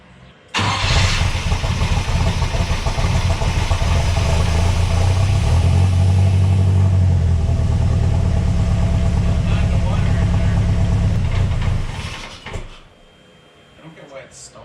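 A turbocharged 3.0L Mercruiser boat engine swapped into a Chevrolet S10 cranks and fires, running loud and rough with an uneven stumble for about eleven seconds before dying away; a voice is heard near the end.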